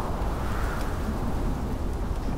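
A storm rages in The Pillars of the Earth video game, with heavy rain and deep rumbling thunder forming a loud, dense, continuous wash with no talking.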